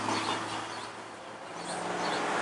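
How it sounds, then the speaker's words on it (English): A steady broadband whoosh of traffic passing close by, swelling slightly as vehicles roll past, with no voices. "I'm gonna let these cars roll by because I'm about to go in."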